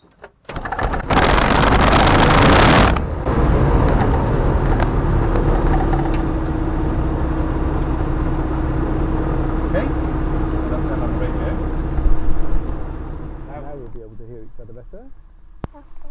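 A light aircraft's propeller engine fires up after a burst of starter cranking, then settles into a loud, steady running drone with a humming tone, easing slightly near the end as a voice comes in.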